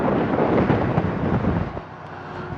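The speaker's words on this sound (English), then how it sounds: "it is a cold, windy day today" Strong, cold wind buffets the microphone outdoors beside a 2023 Ford Bronco Raptor in a loud, rushing roar that eases slightly toward the end.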